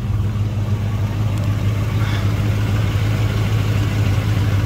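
A Cadillac DeVille 472 V8 idles steadily with a low, even rumble, close and constant throughout without any revving.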